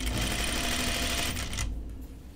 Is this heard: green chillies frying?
no